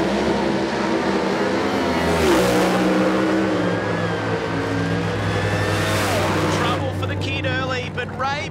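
A doorslammer drag racing car makes a qualifying run, its engine roaring loud and sustained as it accelerates, with a commentator talking over it.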